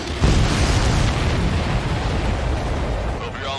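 Missile hits in Ace Combat 7 combat against supply ships, heard as a dense, loud roar of overlapping explosions that bursts in sharply and rumbles on without pause, with radio chatter mixed in.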